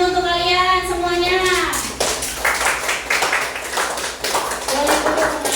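A classroom of schoolchildren bursts into applause, a dense burst of hand clapping after a teacher's spoken instruction, continuing briefly alongside talk and children's voices.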